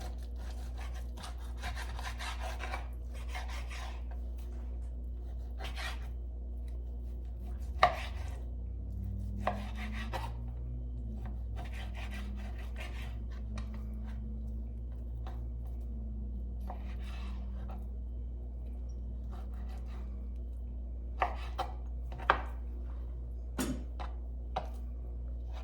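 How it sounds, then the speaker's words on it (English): A knife cuts stew beef into chunks on a board in a quiet kitchen, giving soft, irregular chopping taps and scrapes spread across the clip with a steady low hum underneath. "I'm just going to go ahead and cut this into, not real big chunks, but into some chunks"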